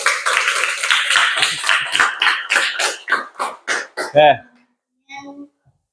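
Clapping from a fifth-grade class at an elementary school, applauding a student group that presented a cube net: dense, close clapping for about four seconds, then scattered claps and a short voice.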